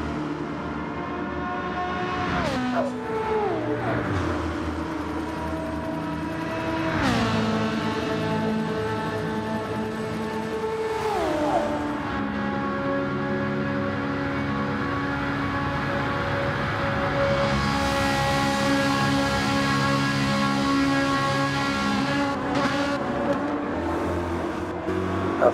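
Engine sound of a Ferrari GT race car in a Le Mans racing video game, a sustained whine climbing and dropping in pitch through several gear shifts, steady and prominent throughout.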